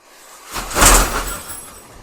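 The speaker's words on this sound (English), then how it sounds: "That was the sound of the tent being put up in Alex's room." A single muffled rustling whoosh with a soft thud, swelling and fading over about a second, close by and loud, with no talking.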